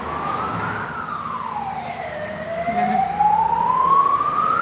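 An emergency vehicle siren wails past in a rising and falling sweep, growing louder toward the end, with steady traffic rumble underneath and no talking.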